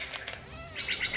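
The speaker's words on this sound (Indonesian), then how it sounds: "Hah? Burung enggang?" A cartoon hornbill cries out with a few sharp, bright calls and what sounds like flapping wings, fairly close and loud, with no talking over it.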